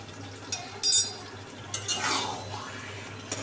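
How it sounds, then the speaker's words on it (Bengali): Hog plum pickle (amra achar) is stirred in a pan with a few close scraping strokes and light clinks of the utensil against the metal, alongside a soft sizzle. "নাড়াচাড়া দিয়ে দিই।"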